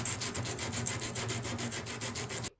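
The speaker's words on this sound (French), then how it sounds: "On va poncer en essayant de garder toujours le même angle." Folding knife blade being sanded by hand at a steady angle, a close, loud, rhythmic rasping of back-and-forth strokes that runs continuously before stopping abruptly.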